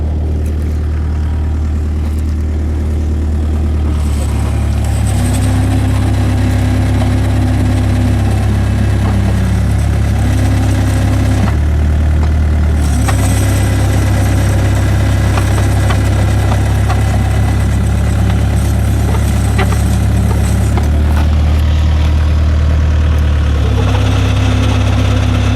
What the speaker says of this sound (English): Let's run these tracks again.